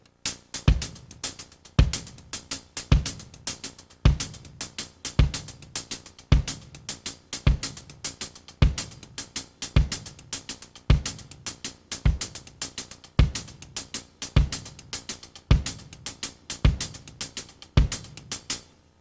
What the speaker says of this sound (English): what I'm playing is sort of a variation, I guess you could say, of sort of a basic songo type of pattern using my hi-hat and bass drum.